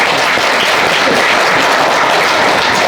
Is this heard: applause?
yes